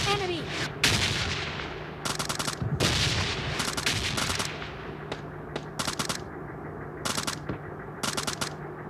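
Gunfire in PUBG Mobile Lite: loud bursts of rapid shots in clusters with short gaps between them, over a steady background hum, with no talk.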